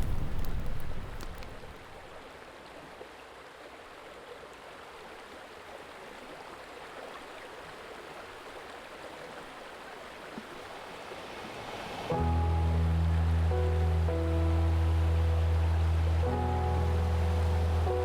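Rushing water of the Vjosa River in Albania fills the scene as a steady, close wash of flow, then a loud low tonal hum takes over for the final seconds.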